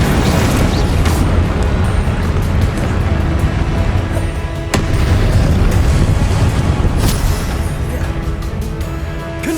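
Repeated Confringo spell blasts in Hogwarts Legacy make a dense, continuous run of booming, rumbling explosions, broken by sharp cracks and lasting the whole stretch.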